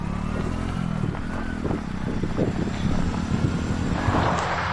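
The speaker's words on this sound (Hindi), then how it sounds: "गाइस हम तो ऐसे चलाते हैं बाइक, हमें चलानी तो आती नहीं" A motorcycle in an Indian tractor video game gives a steady, droning engine hum that rises and falls slightly with speed. A few faint clatters sit over the continuous engine tone.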